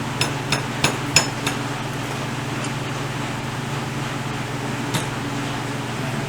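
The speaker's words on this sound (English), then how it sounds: "Come out the keyway, it's just dropped in here." A small metal flywheel key dropping out of its keyway on a Greeves Anglian motorcycle, a quick run of four or five light metallic clinks and taps, then one more later, close against a steady low hum.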